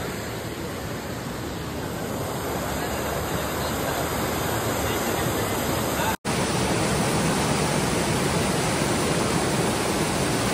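River water rushes in a steady, loud broadband roar near Malshej Ghat, close and unbroken apart from one momentary dropout.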